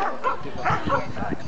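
A dog barks a few times at a dog agility competition, the barks mixed in with a busy crowd and an announcer's voice over a loudspeaker.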